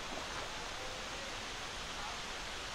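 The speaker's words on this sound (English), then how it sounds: "Nice little stream." Steady, soft rushing of Poe Creek flowing in Pennsylvania's Poe Valley, a continuous broadband wash with no pauses, fairly faint and even throughout.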